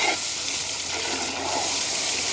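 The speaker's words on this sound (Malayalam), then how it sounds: "അപ്പൊ കുറച്ച് വെള്ളം ഒഴിക്കുന്നുണ്ട് ഇടാ." Water poured into a pan of fish curry cooking outdoors by a quarry, a steady close splashing rush that lasts the whole moment with no talk.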